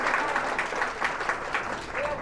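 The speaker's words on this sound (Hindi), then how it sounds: "अरे वाह, बधाई, बजाओ ताली भाई" A room of students applauds in a Sanskrit class, a steady patter of many hands clapping together at moderate volume for a couple of seconds.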